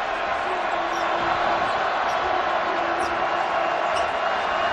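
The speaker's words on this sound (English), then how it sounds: "And now the crowd is beginning to swell." Dense, steady roar of a packed basketball arena crowd at an NCAA Final Four semifinal between Connecticut and Florida, loud and continuous with a broadband wash of cheering throughout.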